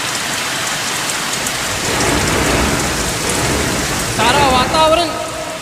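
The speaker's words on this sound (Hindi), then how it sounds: "प्यारी प्यारी रिमझिम रिमझिम बरसात प्रारंभ हो गई।" Rain falls in a steady wash with a low rumble of thunder underneath, the storm loud and continuous while someone speaks over it near the end.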